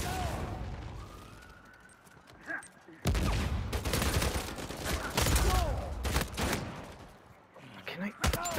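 Copperhead rifle gunfire in the Uncharted 4 multiplayer game, with several loud bursts of rapid shots separated by quieter stretches and a player talking over the action.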